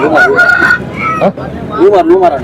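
Roosters at a busy hen market in Chintamani give loud honking, crowing calls close by, several overlapping in bursts, with some voices in the background.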